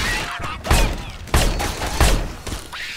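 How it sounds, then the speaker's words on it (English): Gunfire in the video game Left 4 Dead 2, three or four loud sharp shots about half a second apart with ringing tails, close and with no talk over them. "Shoot the armored zombies in the back."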